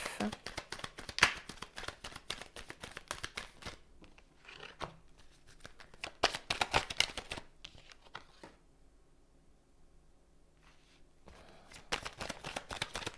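Tarot cards being shuffled by hand for a reading, with bursts of riffling, flicking and crinkling card sounds that pause briefly and resume, close and fairly quiet; a voice talks at times between the shuffles.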